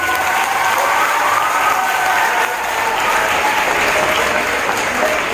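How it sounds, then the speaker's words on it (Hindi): Loud, steady applause from an audience at a school costume competition prize-giving during a Guru Purnima festival, dense clapping sustained throughout without a break. "जोरदार तालियां।"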